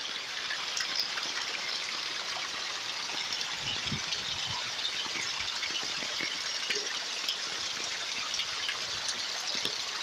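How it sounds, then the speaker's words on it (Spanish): A heavy downpour pours over a street in Girón, flooding the main road of Villa de los Caballeros like a river: dense continuous hiss of rain and rushing water, close and steady, with a brief low rumble midway and no talk. "Fuerte aguacero en Girón en estos momentos."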